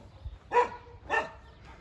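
Dogs barking outdoors near a villa with mango trees: two loud, sharp barks about half a second apart with a faint third at the end, no speech.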